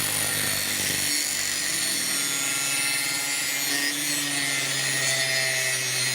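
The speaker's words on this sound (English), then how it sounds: "I'm going to use the angle grinder so you can see how I'm actually sharpening that." Angle grinder sharpening a lawnmower blade clamped in a vise, giving a loud, steady, continuous high-pitched grinding whine that holds without a break from start to finish.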